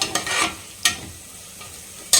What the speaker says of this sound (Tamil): ஆனியன் வந்து வதங்கட்டும். வதங்கினதுக்கப்புறம் பார்த்துக்கலாம். நல்லா வதங்கிடுச்சு.